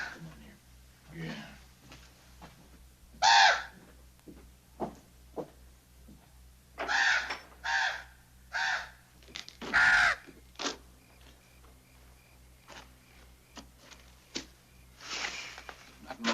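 A crow caws in several separate bursts across an outdoor Western scene from a 1959 Bonanza episode, the harsh calls fairly loud against a low steady hum, with some quieter sounds between them.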